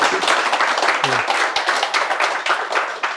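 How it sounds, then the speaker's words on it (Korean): Lively clapping from a small audience honoring two candidates at an Incheon social workers' association election debate, many hands close by in a dense burst of fairly loud applause with a brief voice murmur in the middle. "우리 두 분 수고하셨는데 박수 한번 쳐드리자면"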